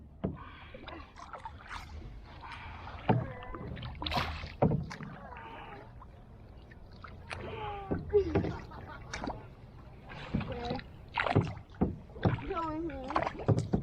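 Kayak paddles dip and splash on Lake McDonald in Glacier National Park, with soft irregular strokes and water sloshes under frequent casual chatter between paddlers.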